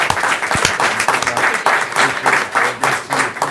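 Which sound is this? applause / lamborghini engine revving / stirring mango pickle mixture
applause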